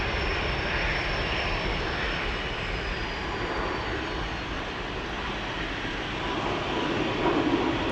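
KLM's 'Orange Pride' airliner thunders down the centre runway at Amsterdam Schiphol on takeoff, a steady broad jet roar heard fairly close and alone, without talk.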